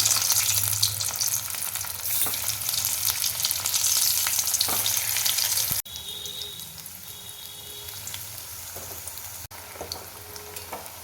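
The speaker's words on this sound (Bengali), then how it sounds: "এবার এই ডিম ভাজা তেলের মধ্যেই আলুগুলোও ভেজে নেব।" Potatoes frying in oil left from frying eggs, a steady close crackling sizzle with occasional pops, briefly broken by a couple of sharp cuts and softer stretches, no talk.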